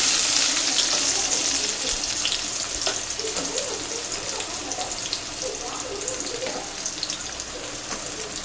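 Chopped onions hit hot oil with mustard seeds and dried chillies, a loud, broad sizzle that slowly settles into a steady bubbling hiss, close up with no talking.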